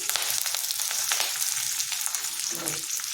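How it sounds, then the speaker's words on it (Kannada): Loud crackling sizzle of dry chilies and curry leaves frying in hot oil, dense popping throughout with a brief stir near the end. "ಈಗ ಒಣಮೆಣಸಿನ್ಕಾಯಿ ಮತ್ತು ಕರಿಬೇವು ಇದ್ದೀವಿ"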